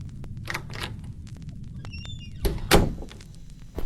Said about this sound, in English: turn the knob fully and pull the door open quickly